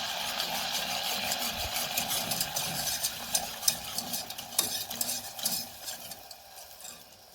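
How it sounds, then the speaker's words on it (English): Heavy cream being whisked in a pan for carnivore nachos: light, rapid scraping and clinking of a whisk against metal, quiet at first, then busier, more clattery strokes, with no talking. "I'm just going to add that in, whisking it up."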